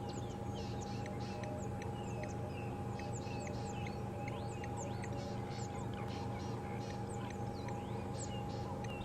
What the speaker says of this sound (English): There's an Egyptian goose